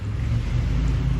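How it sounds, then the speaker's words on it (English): A neighbor's lawn mower drones steadily and loudly in the near distance, a continuous low engine hum with no pauses and no voices over it. "the neighbors decide to mow their lawn really loudly"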